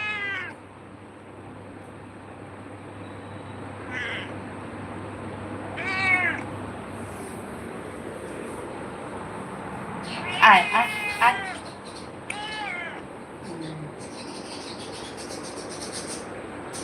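A pet cat indoors meows several times in short, clear, rising calls, spaced over quiet room tone, with a person talking nearby between the calls.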